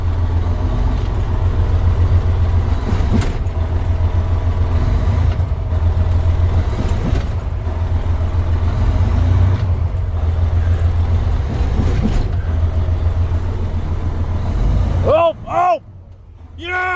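A stuck truck on a concrete shop floor revs hard against frozen brakes, a loud, steady low engine roar that holds for about fifteen seconds before cutting out with a brief burst of speech near the end.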